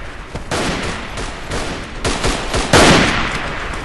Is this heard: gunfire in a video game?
yes